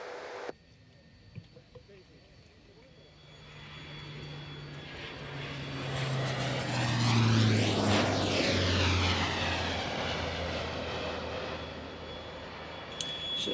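Fouga Magister jet landing at an airshow, its engine roar swelling loud and close as it passes with a clear Doppler sweep, then settling into a steady fading rumble.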